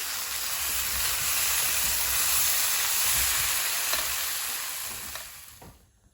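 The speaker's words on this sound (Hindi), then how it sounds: "अब हम फ़िश फ्राई करना शुरू करने लगे हैं" Fish frying in a pan of hot oil, giving a loud, dense, steady sizzle with faint crackles that fades out toward the end, with no voices.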